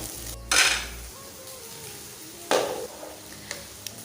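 Paneer bhuji with onion frying in a pan, with two bursts of sizzling as ingredients hit the hot oil, each fading into a softer crackle, plus a few light metallic clinks of a utensil against the pan.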